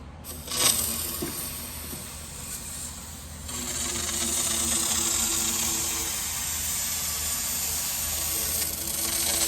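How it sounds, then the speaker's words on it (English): A close aerosol can of rust treatment sprays through an extension nozzle in a steady, continuous hiss for several seconds, preceded by a brief click and rattle, during Ford Bronco rust repair. "And then you spray and slowly pull it out."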